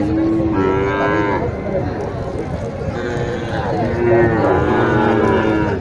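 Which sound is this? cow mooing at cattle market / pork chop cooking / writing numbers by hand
cow mooing at cattle market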